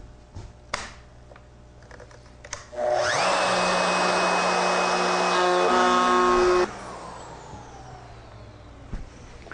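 A router fitted with a bowl bit spins up and cuts into wood for several seconds, a loud steady high whine with grinding texture, then winds down, framed by quieter clicks and handling before and after.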